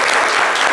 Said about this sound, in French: On applaudit Karel.